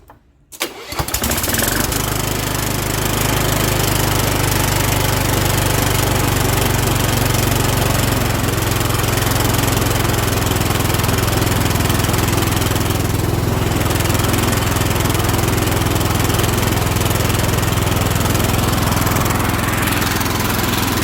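A Kohler Courage engine on a Cub Cadet LT1045 lawn tractor fires up after a brief crank and settles into a loud, steady idle nearby for about twenty seconds, with no talk.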